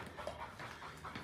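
A dog pants in quick, steady breaths, close and fairly soft, with no voices over it.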